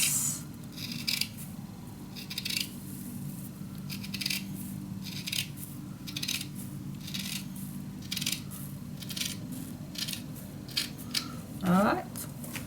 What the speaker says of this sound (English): Let's use the scissor.